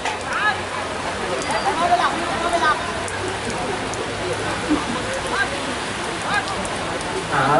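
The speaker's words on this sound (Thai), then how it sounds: "ตรงนี้ฝนตกเนี่ยอันตรายอยู่แล้วครับ" Rain pouring steadily over a football pitch during a Thai cup match, a dense continuous hiss under lively commentary from two announcers.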